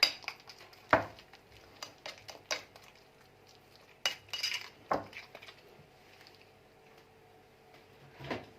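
Baba ghanoush ingredients are mixed together with metal utensils, giving sparse, quiet clinks and scrapes against a bowl, a few sharper knocks standing out over near silence.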